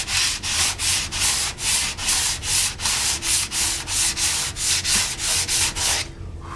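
Hand sanding Bondo body filler with rolled-up Norton sandpaper during an FZR restoration, a steady run of about fifteen rhythmic scraping strokes, close and loud, ending abruptly.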